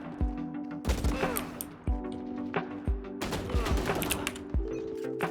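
Shooter video game gunfire sounds as sharp, loud shots in quick bursts and volleys, with clicks and pauses between groups of rounds.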